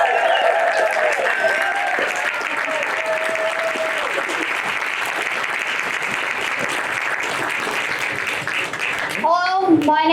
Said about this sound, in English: give a big round of applause for the amazing